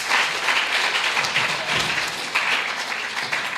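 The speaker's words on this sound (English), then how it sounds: "Let's give these young ladies a round of applause." Sustained applause from an audience at a school science fair awards ceremony, a steady wash of many hands clapping throughout.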